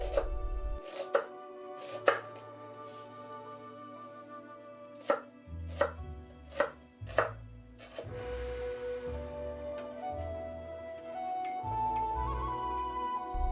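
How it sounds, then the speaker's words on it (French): A knife finely chops a shallot on a cutting board, with sharp, irregular taps and bursts of rapid chopping up close, and steady kitchen noise underneath. "On commence par l'échalote que nous allons ciseler."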